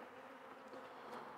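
Dense, steady buzzing of many honey bees up close on a hive frame, a continuous hum with no voices.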